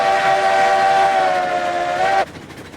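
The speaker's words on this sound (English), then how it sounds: "Great whistle on this locomotive." A steam locomotive whistle in the RailRoads Online video game: one loud, sustained, steady chord-like blast that cuts off sharply near the end, with no talk.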